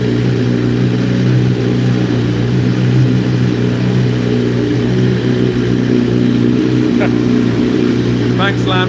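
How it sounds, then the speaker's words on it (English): A BMW HP4 Race motorcycle engine runs loud and steady at Jerez, a constant droning roar with a few sharp clicks near the end, while a voice talks over it. "Can you hear me over the noise of the bike? It's pretty loud."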